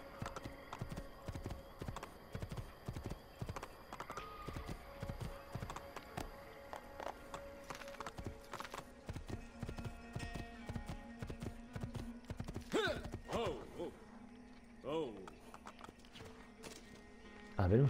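Horse hooves clip-clopping at a steady gallop during a horse race in Assassin's Creed, rapid rhythmic thuds running throughout with a whinny near the end and someone talking over it.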